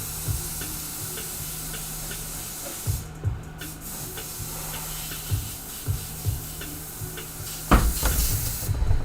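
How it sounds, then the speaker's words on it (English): An airbrush being rinsed out sprays in a soft, continuous hiss, punctuated by short repeated bursts and clicks of trigger action, fairly quiet and close. "I'm gonna rinse this airbrush out real quick."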